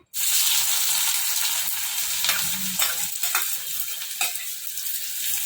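Onions frying in oil left over from earlier frying, for a Telangana-style crab and gongura curry; a steady loud sizzle with occasional scraping stirs, close and alone without talk.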